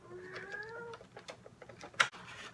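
A pet cat gives a short, nearby meow early on, followed by quieter household noise and a sharp brief knock near the end.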